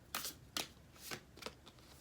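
Tarot cards are shuffled and drawn in a few sharp riffling swishes, close and distinct, with short pauses between them and no voices.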